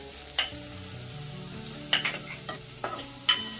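Onion and garlic-ginger paste sautéing in a pan, a low sizzle broken by several sharp scraping stirs of a spoon against the pan.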